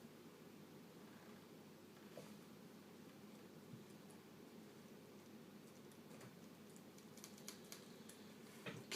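Typing on the keyboard of a Compaq Evo N400c laptop under repair, a steady patter of small key clicks over a constant hum of background noise, growing slightly busier and sharper toward the end.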